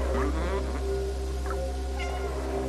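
A cat meows several times in the game Stray, short repeated calls over a loud low droning background hum.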